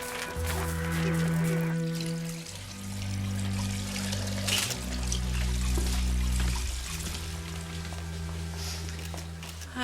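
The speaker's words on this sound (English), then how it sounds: "He left the tap running and the water came in through the reception." Water running from a tap and pouring steadily, a continuous trickling splash at moderate level mixed with low background music tones and no talk.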